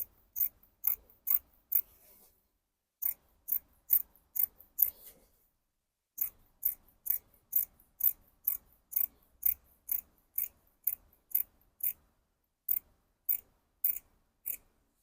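Scissors cut fabric for pleated palazzo pants in a run of crisp, evenly spaced snips, up close. A short pause breaks the sequence, then the snipping resumes steadily.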